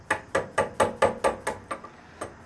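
A chisel is struck in an even rhythm of about nine sharp knocks while cutting a door hinge mortise in wood, each hit crisp and close, with the last blows fainter and more spaced.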